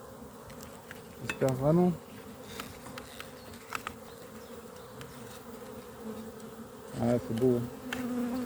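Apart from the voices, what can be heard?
honeybee colonies buzzing at beehives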